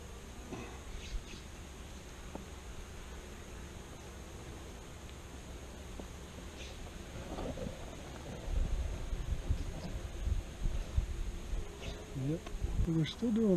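Honey bees buzz around a Flow Hive in a low, steady outdoor drone that swells louder in the second half, with a person talking at times.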